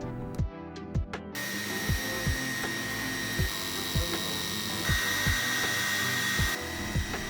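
A laser cutter cutting wood for a miniature Japanese food cart, with a steady whirring air-assist hum and repeated short clicks and thumps as the head moves, loud and close, no talking.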